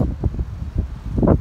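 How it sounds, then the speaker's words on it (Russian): Strong wind buffets a handheld microphone outdoors at a town market, coming as low, rumbling gusts that swell and fade in uneven bursts, loudest near the end. "Какой ветер."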